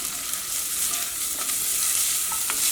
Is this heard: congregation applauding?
no